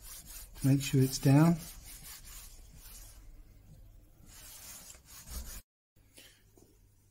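A wooden camera block from an old Watson camera is sanded by hand, giving soft rasping strokes close by, with some louder scraping passes early on and a brief spoken word near the end.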